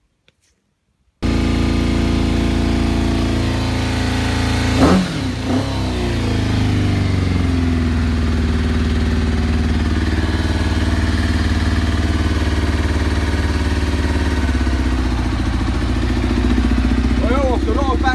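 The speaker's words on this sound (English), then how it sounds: "after a lot of backfiring and spluttering and coughing, and some major flames out of the exhaust, running" A Kawasaki 636 motorcycle engine starting and running after a carburetor cleaning, close and steady with a loud catch and blip near the start, then a sustained idle.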